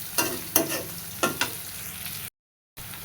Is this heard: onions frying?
yes